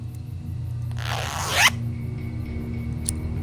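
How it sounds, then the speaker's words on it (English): A stuck cushion zipper in the video game Tex Murphy: Tesla Effect, one short, sharp rasping zip lasting about half a second over a low steady background hum. "The zipper on this cushion's stuck."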